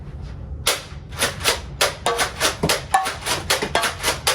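A Nerf Vortex Praxis blaster fires discs at targets about 12 feet away, giving a rapid run of a dozen or so sharp, close snapping shots with brief gaps between them.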